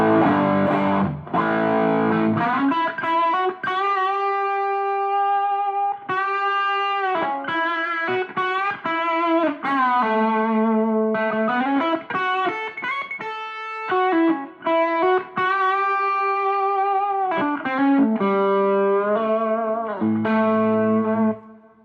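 An electric guitar runs through the overdrive circuit of a Custom Tones Ethos Clean III pedal with the gain turned up, ringing out sustained, distorted notes and chords alone at close range.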